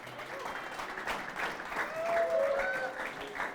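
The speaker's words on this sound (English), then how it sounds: "So big round of applause for her." Applause from a crowd at a bowling tournament in a bowling alley, a steady clapping wash lasting several seconds and swelling slightly near the end, with faint voices underneath.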